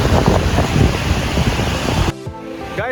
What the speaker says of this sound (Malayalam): ഇപ്പം നമുക്കും നല്ല കാറ്റൊക്കെയാണ്, അതുകൊണ്ട് അത് തണുക്കുന്നുണ്ട്.